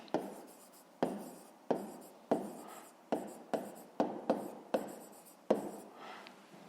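A pen or pencil is writing out a fifth-grade math solution on paper. About ten sharp strokes and taps fall at a steady rhythm, close and faint, with no talk.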